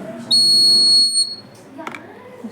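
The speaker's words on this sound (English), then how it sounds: "the buzzer will be alerted" A shrill electronic smoke alarm buzzer beeps once for about a second, piercing and close, followed by faint background noise and a brief click.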